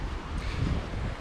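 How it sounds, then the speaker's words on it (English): River water rushing close by at a riverside along the Golden Staircase and Mt Solitary bushwalking loop, a steady broadband wash with low rumble, fairly loud and continuous, no talking. "if you can't tell, that's the sound of water"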